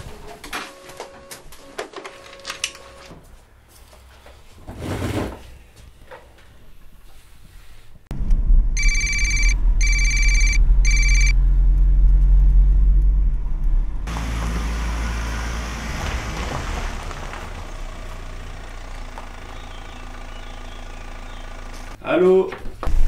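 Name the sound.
telephone ringing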